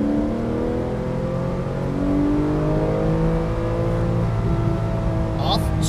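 A 2012 Porsche 991 Carrera S accelerates out of a corner on a race track, its engine note rising in a steady, loud, close drone heard from on board, with an instructor's voice speaking over it.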